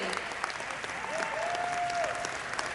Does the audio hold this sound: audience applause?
yes